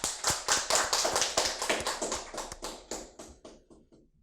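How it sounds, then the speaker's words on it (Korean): An audience at a political talk claps in a fast, regular rhythm of sharp, close beats that gradually fades toward the end. "박수 한번 치십시오"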